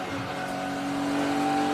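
BMW race car in a CSCC BMW Championship race at Oulton Park, a steady engine note with high tonal whine building slightly in loudness, heard from on board without talk.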